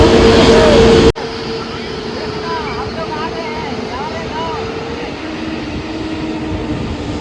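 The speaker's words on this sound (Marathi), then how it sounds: "आता हा एक विमान इकडे येईल, हा विमान तिकडनं जाईल आणि तो विमान पूर्ण लँड होईल" A jet airplane approaching to land at Mumbai international airport rumbles steadily in the distance at night, a continuous low roar with some talk over it.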